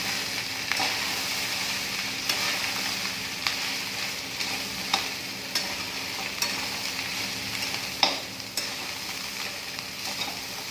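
Cooked rice stirred and fried with onions and oil in a pan for soya fried rice, a steady sizzle under repeated scraping strokes of a spoon every second or two, close and moderately loud, with no talking.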